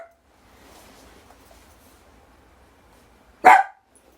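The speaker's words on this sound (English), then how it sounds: "She's just barking for no apparent reason." A single sharp bark from a female dog rings out abruptly in a quiet indoor room after a few seconds of faint low background murmur.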